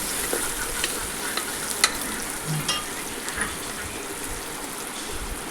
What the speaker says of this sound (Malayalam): അതൊക്കെ കുറച്ച് ഉപ്പിട്ട് നമുക്കെല്ലാം കൂടെ ഒന്ന് ഇളക്കിയെടുക്കാം.